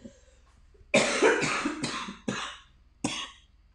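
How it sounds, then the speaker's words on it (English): Several sharp coughs in a row, close and fairly loud, the first two bunched together and the rest spaced apart, with no talking. "Still got a bit of a cough."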